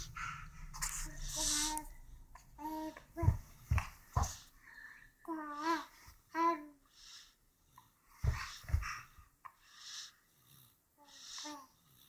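A puppy snuffles, whimpers and snorts in short close bursts, with soft breathy noises between them and no talking.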